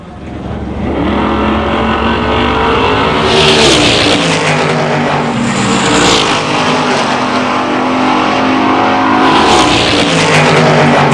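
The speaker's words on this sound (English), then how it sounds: "Dick Lowry's 1970 Chevelle against Ron Oval in a 63 Plymouth Savoy" A 1970 Chevelle and a 1963 Plymouth Savoy, normally aspirated, race side by side at a drag strip, loud engines roaring and revving hard, with wide open bursts that sweep past the listener.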